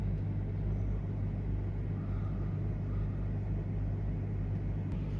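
An Audi A6 Ultra 2.0 TDI diesel idles at low revs during a particulate filter regeneration, giving a steady, continuous low rumble and hum with no variation and no voices.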